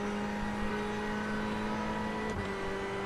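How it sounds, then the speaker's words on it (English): Steady engine drone of cars racing at Road America in iRacing, with an LMP prototype race car coming through on the right; a continuous mid-level hum with a brief blip near the end, no talking. "LMP coming through on the right."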